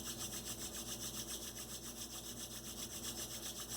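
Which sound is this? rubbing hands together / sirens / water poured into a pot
rubbing hands together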